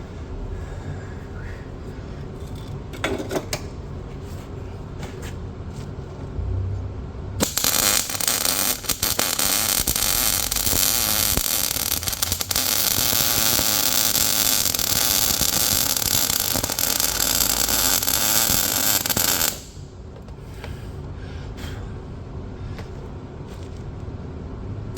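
Welding on a Cub Cadet 582 pulling tractor frame: a steady, loud crackling hiss of the arc runs for about twelve seconds, framed by quieter shop ambience before and after.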